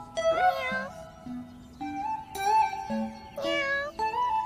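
A cat meows repeatedly, several drawn-out, pitch-bending cries close by with short pauses between them.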